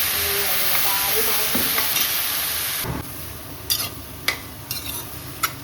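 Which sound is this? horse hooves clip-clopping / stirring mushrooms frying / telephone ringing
stirring mushrooms frying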